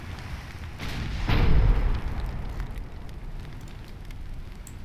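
Naval cannons on a warship fire in the Ultimate Admiral Dreadnoughts battle game, with one deep, rolling boom rising out of a constant hissing background and fading slowly.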